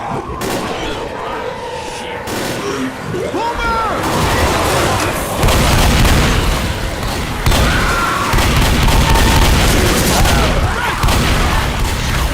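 Gunfire in the Rainbow Six Siege video game crackles in dense, loud bursts across the whole stretch, with booming shots and players talking over the action.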